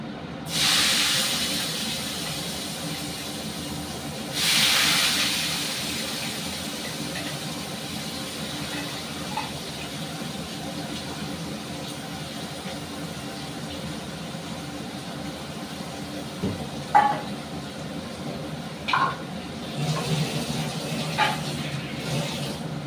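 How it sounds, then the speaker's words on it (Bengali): Finely chopped onions frying in a pan over a gas flame, browning before chicken is added: a steady, soft sizzling hiss throughout, with a couple of louder bursts early on and faint clinks near the end. "এবার ঝিরি ঝিরি করে কুচিয়ে রাখা পেঁয়াজটাকে আমি ব্রাউন কালার করে একটু ভেজে নেব।"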